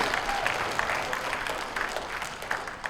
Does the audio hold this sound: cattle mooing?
no